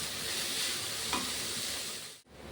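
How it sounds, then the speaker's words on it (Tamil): Onions frying in oil until golden for pepper chicken masala, a close, steady sizzle with a brief spatula scrape partway through and a short pause near the end. "இப்போ வெங்காயம் நமக்கு பொன்னிறமாக நம்ம வதக்கிட்டோம்"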